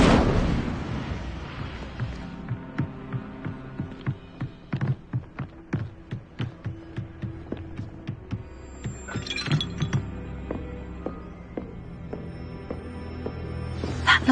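A fire spell effect from a Harry Potter video game: a steady run of sharp crackling bursts and clinking impacts at an even rhythm, building then thinning out into a sustained shimmering tone.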